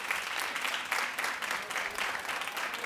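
An audience claps steadily through the whole stretch, a dense, fairly close wash of hands with slight swells in intensity and no talk over it.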